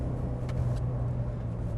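Mercedes-Benz 190E 2.3-16 running on a race track, a steady, loud low engine drone filling the moment with a slight rise as it is driven through a gear change.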